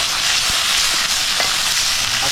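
Crab and shrimp fry in a hot pan, giving a loud, dense sizzle that runs without a break, close up, with soft scraping and stirring knocks.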